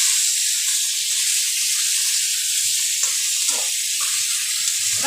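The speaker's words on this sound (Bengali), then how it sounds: "এবার 2-3 মিনিটের মতো আলুর সাথে পেঁয়াজগুলোকে একটু ভাজা করে নেব" Potatoes with onion, tomato and ginger frying in a pan, giving a steady close hiss and sizzle throughout with a few faint stirring scrapes.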